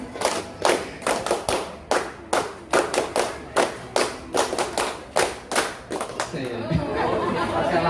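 Group rhythmic clapping chant at a legal outreach session for a scavenger community, many hands striking together in a loud, evenly spaced pattern of sharp claps, with voices chattering as the rhythm ends.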